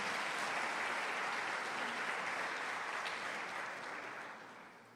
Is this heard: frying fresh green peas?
no